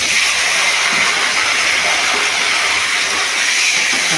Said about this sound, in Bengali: আর দেবো এই মাছটাকে ধুয়ে রেখে করে রেখেছি, সেটাকে ছাড়বো তেলের মধ্যে।